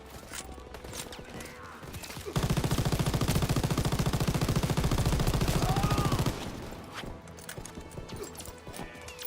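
A mounted machine gun in Call of Duty WWII fires one loud sustained burst of rapid shots lasting about four seconds, with quieter battle noise before and after.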